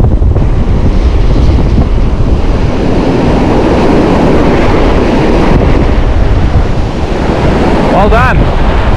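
Strong northeast wind batters the microphone on the Transkei coast, roaring loud and continuous alongside crashing surf for the whole stretch, with a brief voice near the end.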